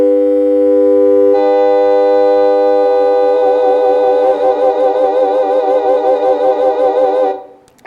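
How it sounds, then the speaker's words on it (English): Three pure electronic tones with warbling frequency modulation stack into a sustained chord, starting as a steady tone and joined by wavering pitches, loud and clean, then cutting off abruptly. "you're going to hear a chord with 3 sounds"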